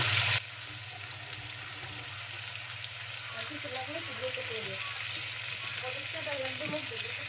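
Cumin, garlic and ginger sizzling in hot oil for a Bengali prawn curry, a steady close hiss of frying after a brief louder burst at the start, with faint voice-like tones over it.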